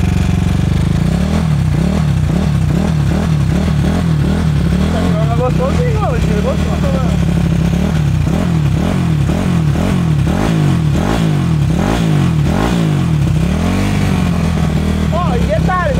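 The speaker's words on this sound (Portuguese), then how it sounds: "Ela é uma moto antiga reformada." An old restored motorcycle engine runs close and loud, repeatedly revving up and dropping back to a rough, pulsing idle, with someone talking over it.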